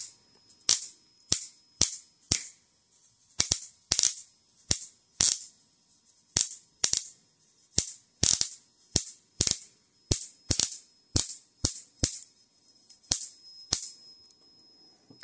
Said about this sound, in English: It's making a weird popping sound every once in a while.